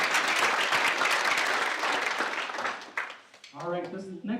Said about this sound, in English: So, big round of applause to Aaron.